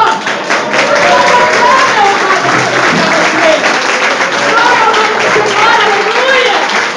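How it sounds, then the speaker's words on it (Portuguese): A church congregation claps loudly and steadily during a worship service. The applause is dense, continuous and close, lasting about seven seconds, with voices faintly underneath. "Você pode aplaudir ao Senhor?"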